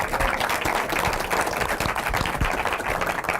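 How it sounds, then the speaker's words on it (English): An audience at a public banking forum in DC applauds, a steady dense wash of clapping that holds at even loudness for the full stretch without a break. "Can we give them a round of applause?"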